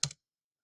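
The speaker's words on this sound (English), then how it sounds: "press Control on your keyboard" A single key press on a computer keyboard, a short crisp click that is heard alone and followed by silence.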